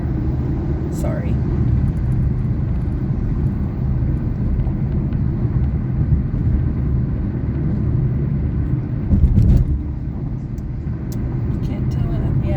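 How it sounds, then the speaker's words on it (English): A big dump truck rumbles along a highway close behind a Peterbilt or Freightliner, giving a steady, loud low engine and road drone with a brief swell near the end. "I think that's a dump truck behind me. One of them big, ginormous ones."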